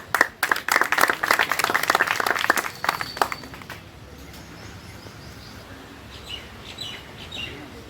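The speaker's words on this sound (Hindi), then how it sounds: "ताली बजाओ भाई।" Clapping from a group outdoors rewarding a correct answer at a quiz competition held in nature, a loud burst of claps over the first few seconds that fades away, leaving bird chirps in the background.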